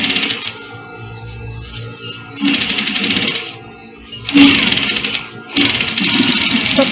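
A sewing machine stitching a skirt runs in three loud, fast bursts of rapid mechanical rattling, separated by short quieter pauses with faint handling sounds.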